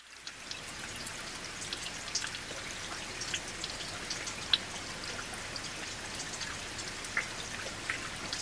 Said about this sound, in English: The soft pattering and drizzle of spring rain sounded in the pitch black outside.